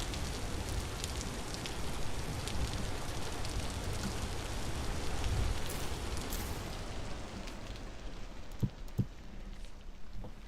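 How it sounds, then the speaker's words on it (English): Loud, steady rain falls in the Vintage Story video game, a dense continuous hiss on surfaces that eases off toward the end, with a few sharp drips or clicks near the close. "we get out of that loud, obnoxious rain for a while"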